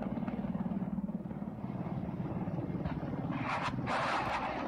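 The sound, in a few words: military helicopters flying low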